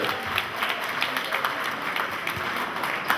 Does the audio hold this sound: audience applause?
yes